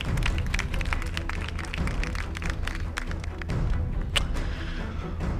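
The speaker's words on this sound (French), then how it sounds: "On applaudit Andrea." Audience applause for a contestant named Andrea at a Miss RD Congo beauty pageant, dense and steady clapping with thumps filling the whole stretch at moderate loudness, with music or crowd noise beneath.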